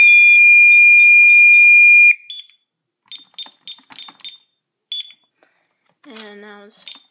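A burglar alarm system's fire panic alarm sounds as a loud, continuous high-pitched electronic tone for about two seconds, then stops, followed by scattered short keypad beeps and a brief burst of talk.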